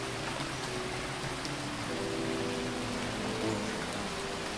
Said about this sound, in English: The rain is coming from very small clouds, as if the planet is sucking the water out of them.